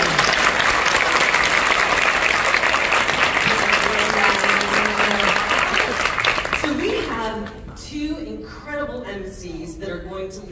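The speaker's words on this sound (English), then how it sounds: "How about a big round of applause for" A big round of applause from the audience at a Barbizon competition in a Baltimore ballroom, dense loud clapping for about seven seconds before tapering off as people start talking over it.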